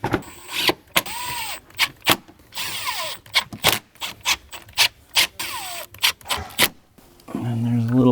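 A power driver removing T25 Torx screws on a 2018–2024 Audi B9 S5 makes repeated short whirring bursts, about a dozen in a row with brief pauses, close and loud, followed by a longer sustained whine.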